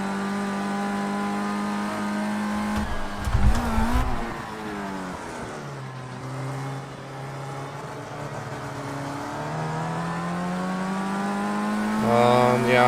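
A race car engine in Project Cars 2 revs and pulls through a corner, with a sharp downshift blip and roar followed by a long rising whine as it accelerates up through the gears, steady and continuous.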